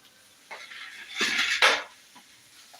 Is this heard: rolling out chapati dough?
yes